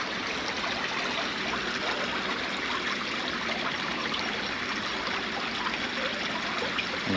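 Water streams steadily through a drainage channel where tilapia gather as the level rises, a continuous broadband rushing and trickling that stays even and fairly close throughout, with no voices.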